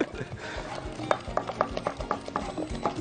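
A spoon stirs semolina for basbousa quickly around a pan, making close, rhythmic scraping strokes with small clicks against the metal in a brisk, uneven pattern.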